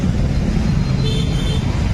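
Jammed road traffic at Baner Radha Chowk in Pune, with a bus stuck among vehicles: a dense, steady rumble of idling and creeping engines, close and continuous, with no clear voices.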